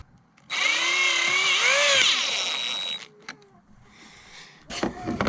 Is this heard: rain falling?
no